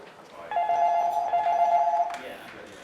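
A telephone rings at the booking office for licensed Underground buskers, one sustained electronic ring lasting about a second and a half, heard close over a quiet room.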